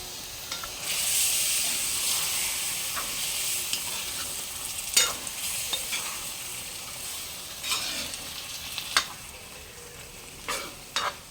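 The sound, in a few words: water poured into chicken curry masala, sizzling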